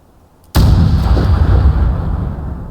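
A single loud rifle gunshot in Fallout 4, a sharp close report followed by a long rumbling echo that rolls on and slowly fades.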